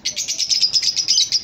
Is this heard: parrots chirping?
yes